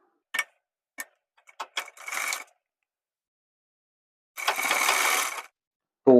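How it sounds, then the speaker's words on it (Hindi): Sewing machine stitching down a twice-folded hem on the bottom of a men's jeans pant: a few sharp mechanical clicks, then a short burst of stitching and a longer, louder run of stitching before a final abrupt start. "लब की सिलाई से इसको हम पक्का करेंगे"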